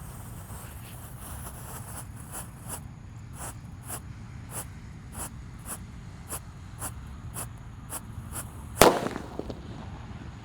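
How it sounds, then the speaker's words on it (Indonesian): A red Disco Happy Flower firecracker set off for Lebaran crackles in a steady run of quick, evenly spaced pops, ending in one louder sharp bang. The sound is fairly close and outdoors. "Disco Happy Flower Lap Laptor guys, yang warna merah. Kita lihat. Oke, sudah menyala."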